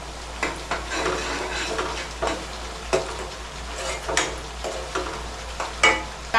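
Chicken and onion paste fry in two pans on a gas stove, a steady close sizzle with repeated scraping and stirring strokes against the metal pans.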